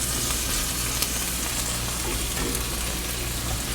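Mushrooms and onions fry in a pan for Salisbury steak, giving a steady, close sizzle with dense crackling throughout and no talk.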